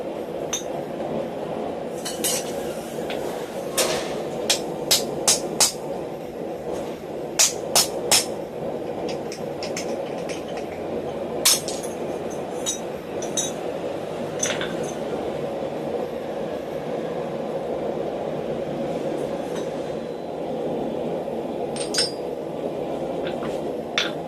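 Sharp metallic clinks from a hammer flaring the edges of steel on a ball peen hammer converted into a blacksmith's hardy tool, struck in irregular clusters of ringing taps over a steady background hum.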